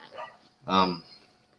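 A dog barks once, sharp and fairly close, in a quiet room, with a softer yip just before it.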